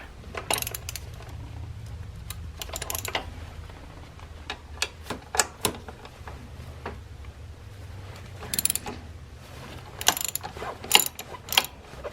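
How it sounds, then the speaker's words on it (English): A ratchet wrench loosening 13 mm bolts that hold a throttle body to a Caravan intake, heard as bursts of rapid close clicking with short pauses and no talk. "we're going to remove a couple of 13 millimeter bolts that bolt the throttle body onto the intake"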